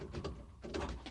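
An unlocked door is opened: a quiet, brief sequence of soft clunks and a light creak, heard close up with no talk.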